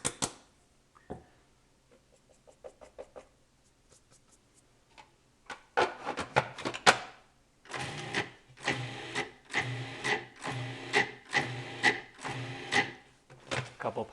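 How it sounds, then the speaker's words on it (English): A food processor pulses dry pasta ingredients in a series of short, loud whirring bursts with brief gaps, preceded by quieter clinks and rustling at the station. "dry ingredients in the food processor"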